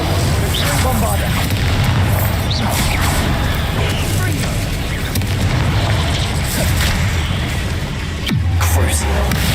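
Bombarda explosion spells cast in the Hogwarts Legacy video game, heard as dense booming blasts over a constant roar of game combat noise, loud and continuous throughout.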